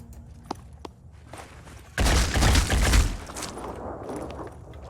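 Gunfire from soldiers shooting at an alien in a tactical video game: a sudden loud burst of shots and impacts lasting about a second, after a few faint footstep-like thumps, then trailing off into lower rumbling.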